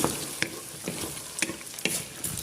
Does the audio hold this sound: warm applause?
no